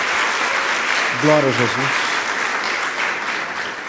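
Church congregation applauding, a steady wash of clapping that runs through the whole stretch while a voice speaks briefly over it.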